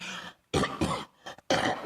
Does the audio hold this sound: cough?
yes